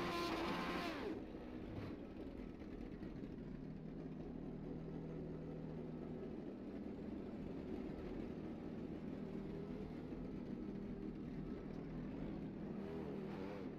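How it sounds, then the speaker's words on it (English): Engine drone of sim racing midget cars in a racing simulator rolling onto the Lanier track, a steady, fairly loud mid-low hum sustained throughout with a brief revving sweep near the start. "First car onto the racetrack in the SimWorks Performance, car number 41, that's Logan Rumsey."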